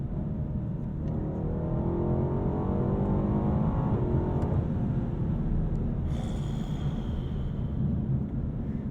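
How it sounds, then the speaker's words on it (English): A 2022 Alpina B8 Gran Coupe accelerates hard through its 8-speed automatic, with a steady, loud engine drone heard from inside the cabin and rising rev sweeps as it works up through the gears. "This 8-speed is rifle fast through these gears."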